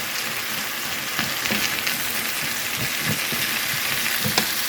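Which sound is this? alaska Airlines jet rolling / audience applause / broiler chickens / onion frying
onion frying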